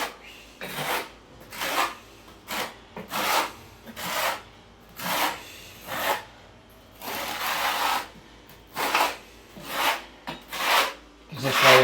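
A trowel scrapes a skim of tile adhesive over Ditra uncoupling matting in a bathroom floor, about a dozen rhythmic rasping strokes, close and steady, with no talk.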